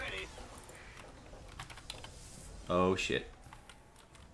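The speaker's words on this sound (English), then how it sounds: "I hate this keyboard." Computer keyboard typing during a StarCraft 2 match, faint clicks scattered under a quiet background, with a brief loud burst of speech partway through.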